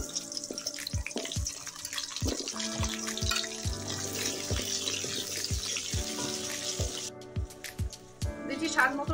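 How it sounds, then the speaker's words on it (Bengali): Potatoes frying in oil left over from frying fish, with a continuous sizzle and bursts of crackling, while a voice talks over it and utensils tap the pan. "মাছ ভাজার তেলে আমি আলু ভেজে নিচ্ছি"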